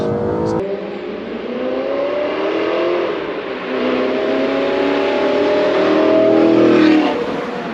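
An Audi R8 V8 with a manual gearbox accelerates on a slippery road, its engine note climbing steadily through the revs, loud and close from inside the car, with a brief gear change near the start and no talk.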